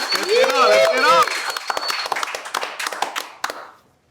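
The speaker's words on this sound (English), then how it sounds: "can we get a round of applause for DIDDY, please?" Studio audience applause for Diddy during a TV interview, clapping scattered and fading out under loud excited talk and cheering from people in the studio.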